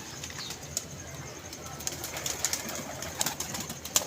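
Pigeons coo softly with occasional wing flutters, fairly close, while faint voices murmur in the background.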